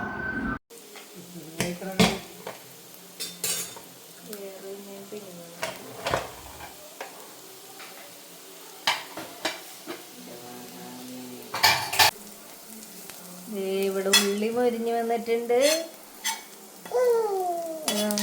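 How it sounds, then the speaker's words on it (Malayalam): Onions and curry leaves fry in hot oil in a pan for a Kochi-style wedding-eve dish, with a soft sizzle under frequent metal spoon clinks and scrapes against the pan, close by. "ചട്ടി ചൂടായ എണ്ണ ഒഴിച്ച് നമ്മൾ ദേ ഉള്ളി കുറച്ച് വേപ്പിലയും കൂടി ഇട്ട് നല്ലോണം മൊരിച്ചെടുക്കണം"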